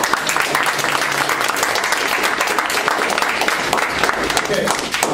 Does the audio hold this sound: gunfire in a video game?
no